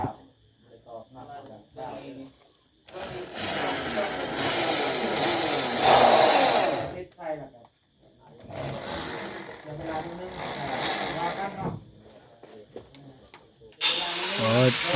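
Bursts of a loud, whining power drill revving and cutting, stopping and starting several times during house construction, with people talking in the gaps between runs.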